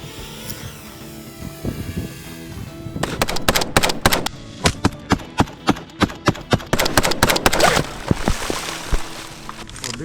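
A semi-automatic weapon fires at a drone during a simulated drone attack in a military test, with a dense string of loud, sharp shots in quick irregular succession that then trail off into scattered reports, close and outdoors, with no talk.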